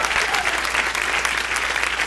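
A church congregation claps together in praise during a Spanish-language service, a dense, steady wash of applause that holds evenly for a couple of seconds without a voice on top.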